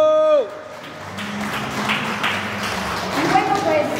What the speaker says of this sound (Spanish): Vamos a brindarles un fuerte aplauso desde detrás de cámaras y aquí dentro del programa para todos los maestros